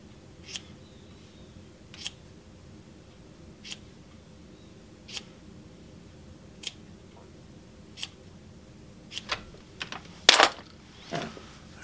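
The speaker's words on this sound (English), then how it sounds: "So we'll snip this off." Scissors snip yarn ends off a hand-woven scarf in a quiet room, with sharp isolated clicks about every second or two, building to a quicker cluster of louder cuts near the end.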